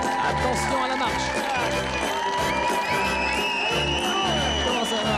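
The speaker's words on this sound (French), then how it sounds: "On les applaudit." A television show audience cheers, whoops and shouts loudly and continuously as a band is introduced on stage, with music playing under the crowd noise throughout.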